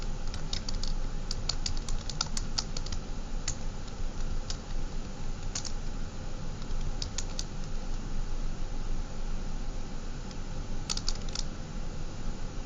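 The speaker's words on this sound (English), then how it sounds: "I can type." Steady typing on a computer keyboard, rapid irregular clicks in bursts with pauses between, heard over a constant background hum.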